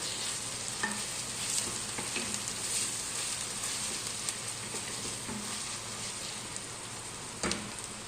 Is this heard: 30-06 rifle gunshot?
no